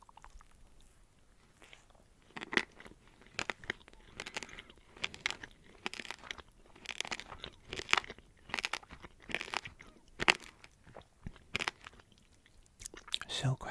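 Crunchy fairy bread, coated in sprinkles, is bitten and chewed close to the mic in a string of sharp crunches and crackles, with soft whispered talk between bites.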